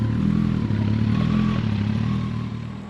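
A Gen 2 Kawasaki ZX14R with a flashed ECU and dyno tune runs in a steady, loud engine drone as it heads off for a test ride, holding fairly constant before easing slightly at the end.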